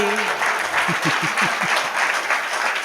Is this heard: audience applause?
yes